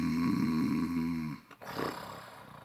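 A person imitates snoring with a loud, close, rasping drone that holds for over a second and then breaks off, followed by a quieter breathy sound.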